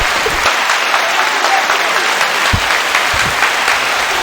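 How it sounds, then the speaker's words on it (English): Canned applause sound effect triggered from a soundboard button, a steady wash of crowd clapping and cheering at loud level, running evenly throughout with a few low thumps beneath. "hit that applause button real quick"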